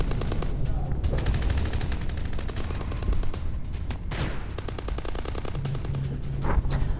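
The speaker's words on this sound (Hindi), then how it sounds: "यूक्रेनी सैन्य काफिले पर छिपकर हमला किया है। ट्रांसपोर्ट व्हीकल पर ताबड़तोड़ फायरिंग की तस्वीरें आपके" Rapid bursts of gunfire from an ambush on a Ukrainian military transport convoy, sharp repeated shots crackling in quick succession, loud and continuous with no voices.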